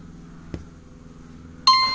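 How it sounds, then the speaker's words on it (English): A 2011-2016 Kia Sportage locks by remote start: a single sharp mechanical click, then a short, bright electronic chirp near the end, both close in an otherwise quiet setting. "Our doors will lock."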